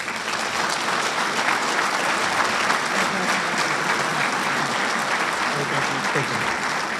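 A banquet crowd at a Marine Corps awards dinner applauds steadily for several seconds, a dense, even wash of clapping filling the room with faint voices mixed in.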